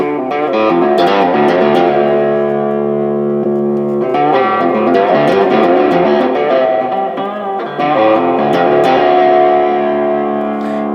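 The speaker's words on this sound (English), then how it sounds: "Here's the reverb." Distorted electric guitar chords through a Boss Katana 50 MKII amp's reverb, ringing out with a heavy reverb tail, played loud and close, the notes washing into each other.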